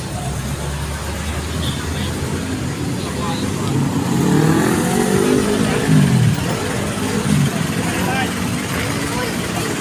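A jeepney ride through traffic in Lower Bicutan, with a steady engine drone that rises into a louder revving surge midway, surrounded by road noise and with voices talking over it.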